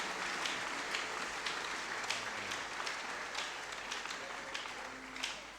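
A church congregation at Sunday Mass acclaims with clapping and ululation, a dense, steady roar of crowd noise with scattered sharp claps running throughout.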